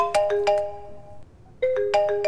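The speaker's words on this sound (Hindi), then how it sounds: "Nothing, some bad guy is calling." A phone's incoming-call ringtone plays loud and near, as repeated bright chime notes in two bursts with a short pause between, during a scene in a Hindi-dubbed action film.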